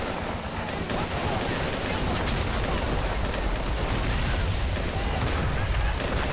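Dense, continuous video-game gunfire from a large Army Men mountain battle in the rain, with overlapping rifle, machine-gun and artillery bursts forming a steady loud barrage throughout.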